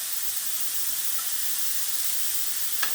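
Cızbız meatballs sizzle steadily on a grill, a continuous soft hissing crackle with one small pop near the end, no voices.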